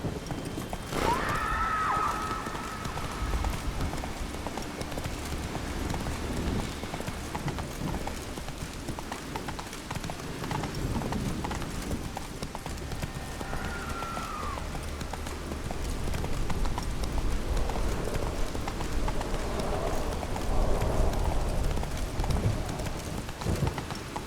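Horse hooves clip-clop steadily at a trot in The Witcher 3, with a brief whinny near the start and a faint one midway, over a low ambient game backdrop.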